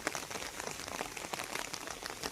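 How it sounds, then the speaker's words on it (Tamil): Heavy rain pours down in a steady, dense hiss of drops drumming on surfaces, loud and continuous throughout with no voices. "பயங்கர மழையாக இருக்குது."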